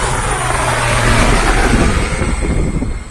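A rescue helicopter in a sea rescue off Khao Lak, Thailand, roars past in a loud, close flyby, a dense continuous engine and rotor drone that swells slightly midway, with no talk.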